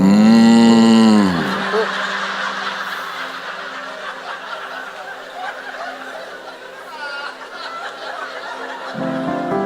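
A man imitates a cow with one long, loud, drawn-out moo, followed by a stretch of audience laughter and chuckling at a church couples' gathering.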